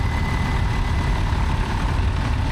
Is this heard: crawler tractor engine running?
yes